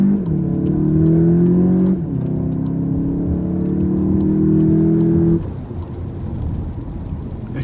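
Volkswagen Arteon R Line 4Motion sedan accelerating briskly under moderate throttle, its engine note rising steadily through a gear before a shift; loud and close, heard from inside the car with no talking.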